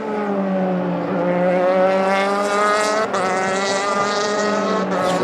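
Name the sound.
Euroformula race cars passing on the start-finish straight at Estoril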